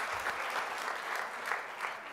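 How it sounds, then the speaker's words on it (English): An indoor audience claps steadily for about two seconds at an evening gathering; the applause is dense, even and fairly close, with no voices over it. "Can you give yourself a round of applause,"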